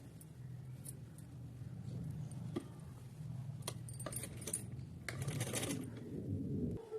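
A sewing machine stitches pleats into cotton dress fabric, a low steady motor whir with light mechanical clicks and rattles, fairly quiet and close, with no voices.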